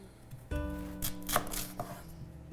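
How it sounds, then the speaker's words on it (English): A knife chops a vegetable into squares on a cutting board, a string of firm, close taps at an uneven rhythm, with no talking. "just so you can kind of see, what the chopping method is"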